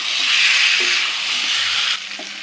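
Cauliflower fries in a pan while being stirred, a loud, close, steady sizzling hiss with a few soft stirring knocks, dropping slightly near the end, with no talking.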